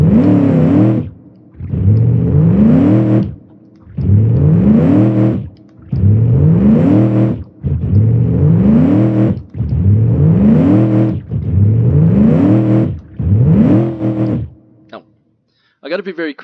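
A car engine in the BeamNG driving game revs up hard in repeated bursts, about seven rising, roaring pulls each cut off by short pauses, loud and close.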